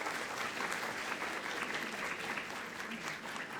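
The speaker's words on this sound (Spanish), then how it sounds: "a quien le damos un fortísimo aplauso." A seminar audience at a law conference applauds a speaker, a brief, full burst of steady clapping from a roomful of people, moderately close.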